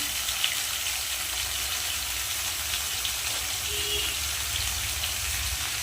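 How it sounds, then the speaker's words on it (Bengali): Vegetables frying lightly in a pan for a spinach dish make a steady, soft hiss throughout. A low background rumble sits underneath, and no one speaks. "সবজিগুলো একটু হালকা ভেজে দেবো"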